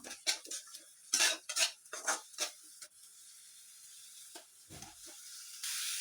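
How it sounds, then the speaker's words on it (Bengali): Ginger-garlic paste being stirred into onions in a pan for a prawn malai curry, with a spoon clinking and scraping against the metal in irregular bursts, backed by a faint steady sizzle and hiss. "এর মধ্যে আমি আদা রসুনের পেস্ট দিয়ে দিচ্ছি, আবারও নড়িয়ে নেবো"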